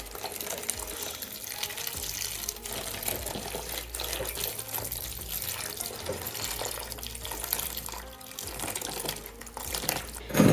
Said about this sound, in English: I'm just going to rinse this spoon off.